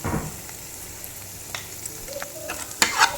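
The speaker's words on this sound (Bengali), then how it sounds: "এটা নিয়ে ভালো করে কষাবো আর অ্যাড করে দেবো একটু নুন" Spices and pomfret fish gravy are sautéed in a pan, with a soft steady sizzle under a few scraping stir strokes and light clinks toward the end.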